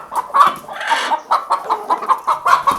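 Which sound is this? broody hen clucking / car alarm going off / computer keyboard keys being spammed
broody hen clucking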